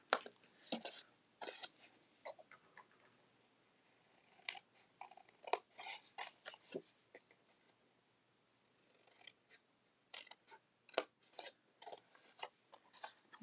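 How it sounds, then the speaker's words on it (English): Scissors snipping off a paper score line while making a pen gift box: repeated crisp, close cuts in quick clusters separated by short pauses, fairly quiet, with no voices. "Just cutting off that score line so it's neater."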